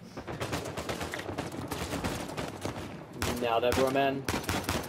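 Machine-gun fire during a firefight in Uncharted 4, heavy bursts running throughout with a voice speaking over the shooting partway through.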